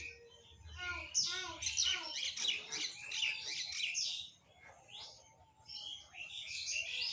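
Red checker and mealy racing pigeons in a loft, giving a busy mix of chirps, squawks and calls, moderately close and fairly quiet with a low coo underneath.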